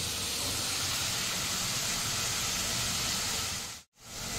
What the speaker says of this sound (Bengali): এবার এই জলটা ফুটছে